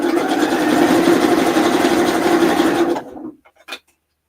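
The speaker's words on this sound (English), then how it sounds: "I'll just let the machine pull it through at its own pace" Sewing machine stitching a zigzag seam on a Honey Tank top, a loud, steady, close motor hum for about three seconds that stops abruptly, followed by a few small clicks.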